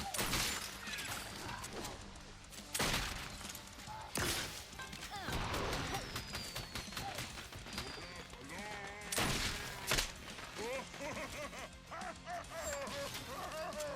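Traps firing at orcs and ogres in the Orcs Must Die video game, a busy clatter of repeated mechanical bursts, crashes and whacks layered over game music and effects, with voices talking now and then.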